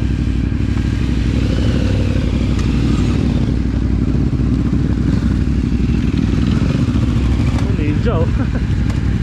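An adventure motorcycle, the 450MT, ridden on rural backroads, giving a loud, continuous engine drone mixed with heavy wind rumble, close and unbroken from start to finish.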